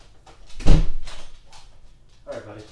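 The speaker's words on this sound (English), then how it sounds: "Come close the door." A door swings shut with a single solid thump, close and fairly loud, amid a person speaking to a dog around it.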